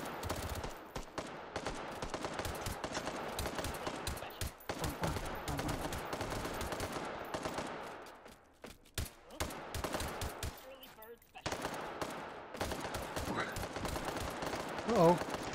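Dense, rapid automatic gunfire from a multiplayer shootout in the VR shooter Hot Dogs, Horseshoes & Hand Grenades, loud and continuous with short gaps, overlapping bursts and a voice talking over it.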